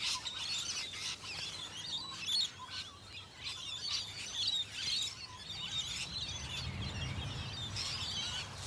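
Parrots call in a leafy Australian setting, a flock of sharp, scratchy chirps and screeches rising and falling in bursts at moderate distance over a soft background.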